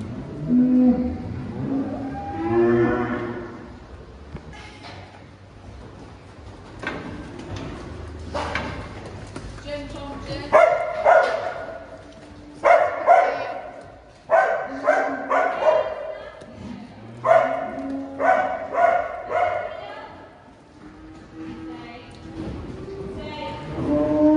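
A dog barks repeatedly in irregular bursts while dairy cattle are moved through a footbath, with hooves clopping nearby and a person speaking at times.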